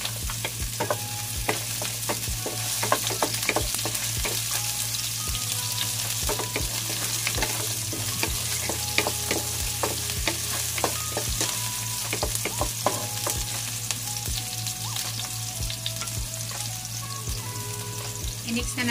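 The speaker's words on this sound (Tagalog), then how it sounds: "Lagyan na natin yung sibuyas natin" Chopped onions sauté in a little oil for ginisang upo, a steady close sizzle with frequent stirring scrapes and clicks throughout, no talking.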